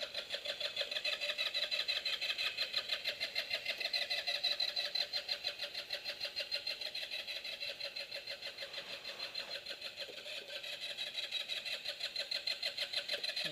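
Ruckus-style scooter engine cranking without fuel in the tank, a steady rapid rhythmic churning that repeats for many seconds without catching, close and moderately loud.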